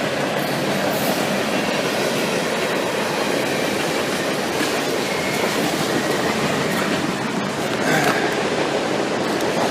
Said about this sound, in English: some busy train action